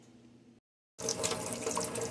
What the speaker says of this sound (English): Make sure you rinse it real good.